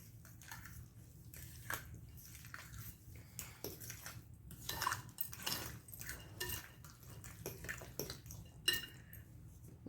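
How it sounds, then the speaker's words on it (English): A spoon stirring sugar into mashed sweet potatoes in a bowl for a casserole, with repeated close clinks and scrapes against the dish and soft sticky squishing, irregular and fairly quiet, with no voices. "Let's get that stirred in."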